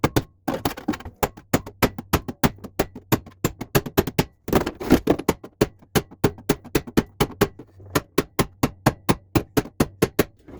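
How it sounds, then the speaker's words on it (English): A ball peen hammer strikes a metal floor panel on a 1965 Coronet in a steady run of sharp, close, ringing blows, a few dozen in quick rhythm with a brief pause midway. "See how I'm bringing that down and around using the ball peen hammer?"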